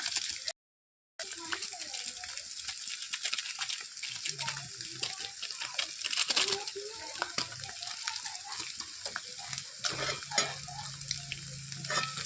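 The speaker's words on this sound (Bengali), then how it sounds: "চলো এবার এটাকে নাড়ি ভালো করে।" Pasta with masala is stirred in a frying pan. Soft, repeated scrapes and clinks of the spoon sit over a low, steady sizzle, with one brief pause near the start.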